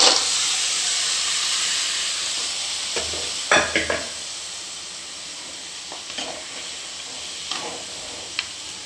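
Boiled bone curry being stirred into sautéed masala in a pot, a steady steamy hiss throughout with a few soft scraping stirs of a spoon, close and moderately loud, no talking.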